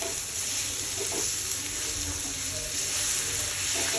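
Chili powder and spices frying in a pan of hot oil for chicken kofta, a steady close sizzle with faint stirring scrapes throughout, no voices.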